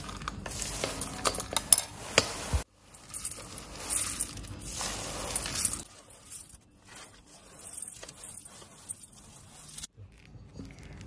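Cooled almonds and pumpkin seeds for Florentine cookies are stirred in a bowl, making soft rattling, scraping and shuffling that comes in uneven bursts with short pauses.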